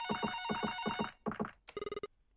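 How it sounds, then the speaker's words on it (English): A telephone rings in a video game, with repeated bursts of trilling electronic ringing in two sets and then a short higher-pitched electronic chirp, all clear and close. "Phone's ringing."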